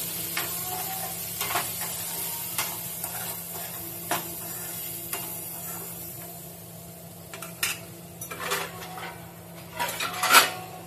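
A spoon stirs salted matar paneer in a pan, with soft scraping and clinks of metal on the pan over a faint sizzle, several louder knocks and scrapes clustered near the end.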